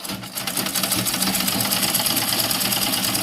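Sewing machine top stitching along a trouser side pocket, a fast steady mechanical chatter of the needle running continuously at close range for a few seconds, no voices.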